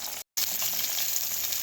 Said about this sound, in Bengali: তেল গরম হয়ে গেছে, এবার এক এক করে মাছগুলোকে ভেজে নেব।